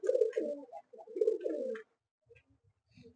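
Face of Beauty pigeons coo in two close, throaty bursts, each a rolling series of low notes, followed by faint scattered coos and quiet pauses.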